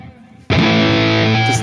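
After a brief quiet moment, a loud, saturated electric guitar chord through a modelled Mesa high-gain amp crashes in and rings out with thick, fuzzy high-gain distortion.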